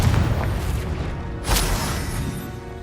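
A Confringo explosive spell blast in the video game Hogwarts Legacy: a loud booming impact with rumbling debris, then a second sharp crack-like burst midway that decays into a lingering rumble, no voices.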